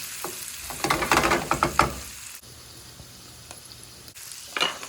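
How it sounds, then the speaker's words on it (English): Onion being stirred into pancetta in a hot pan for a simple pasta all'Amatriciana, giving steady close sizzling with scraping stir bursts early on, then a quieter continuous fry. "I am gonna be adding my onion here, and I'm gonna cook my onion until it is translucent."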